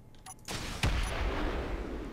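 Rockets fired at shields in Space Engineers: a sudden blast with a sharp impact crack, then a heavy rumbling roar that sustains and slowly fades, preceded by faint mechanical clicks.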